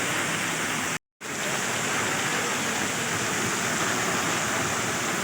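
Heavy rain pours down in the Kashmir valley near a mountain market, a dense, steady roar of falling water with one short dropout near the start and no voices.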